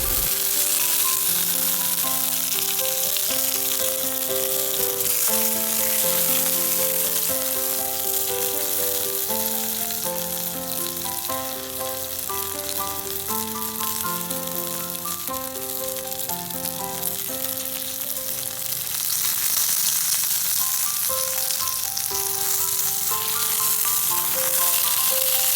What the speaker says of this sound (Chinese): 同样，鸡肉的部分也要煎得香脆哦